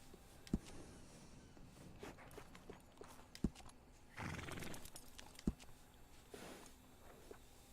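A horse in Red Dead Redemption 2 gives a soft whinny over a few quiet, scattered hoof clops, with sharp single thuds of hooves spaced through the faint stable ambience.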